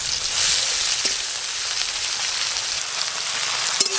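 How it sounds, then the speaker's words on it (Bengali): Chopped onions sizzle steadily in hot oil in a kadai with cumin seeds and dried red chilli, a continuous loud frying hiss with a couple of faint clinks. "পেঁয়াজ কিন্তু একদম লাল লাল করে ভাজার দরকার নেই, একটু হালকা করে ভেজে নিলেই হবে"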